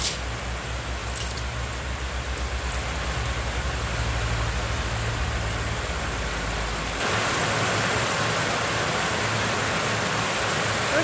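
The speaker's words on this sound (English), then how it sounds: "that rain is getting very heavy now." Steady, dense hiss of heavy rain fills the whole stretch, a constant broadband wash with a low rumble that drops away partway through.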